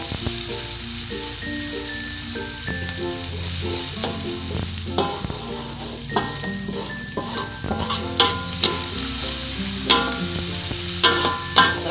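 Onion and ginger sizzle in hot oil in a pan, a steady frying hiss broken by stirring clanks and scrapes, with background music playing along.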